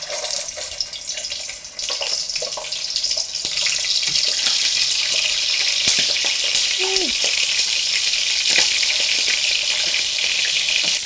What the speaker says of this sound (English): We're starting to put the chicken into the oil now